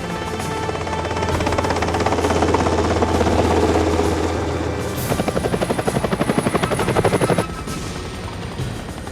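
A helicopter flies close by, its steady loud rotor drone giving way to a rapid rhythmic blade chop, then easing to a fainter whine.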